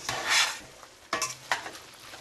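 A utensil stirs browned ground beef with onions and garlic in a hot pan, quiet scraping strokes over a soft sizzle, in a few distinct bursts, with no talking.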